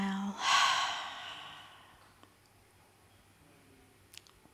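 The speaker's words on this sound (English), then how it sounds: "Exhale it out loudly." A single loud, breathy exhale from a person doing yoga breathing, a long rushing release at the start that fades into quiet room tone.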